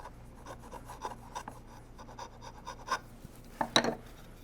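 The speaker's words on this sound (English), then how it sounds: "So I'm just going off my gauge lines here. Use a nice flat wide chisel." A flat wide chisel paring a wood half lap makes quiet, repeated rasping scrapes in an uneven rhythm, ending in a slightly louder, crisper cut.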